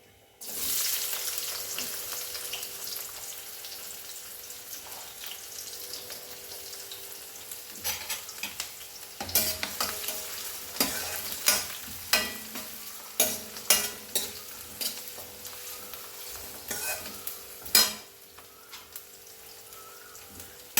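Raw onions dropped into hot oil with frying cumin and mustard seeds for a spinach and potato curry, a steady sizzle followed by repeated scraping stirs and spoon taps that grow more frequent, close up, with no talking.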